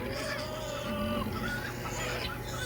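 Backyard chickens clucking among turkeys, a steady low murmur of soft clucks and chirps over a constant hum, fairly close, with brief higher calls now and then.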